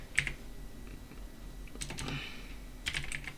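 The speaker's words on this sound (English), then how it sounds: "you want to space down and then you want to type in pause." Computer keyboard keys tap in a few short, quiet clusters of typing, close and alone against a faint background hum.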